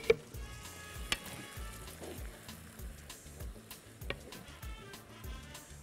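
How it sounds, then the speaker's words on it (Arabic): Tomato juice, blended with hot pepper, pours into a hot pan for a fish tagine and sizzles steadily with crackling and popping, close and fairly quiet, with no voices. "حط عصير الطماطم"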